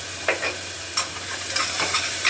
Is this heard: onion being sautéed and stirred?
yes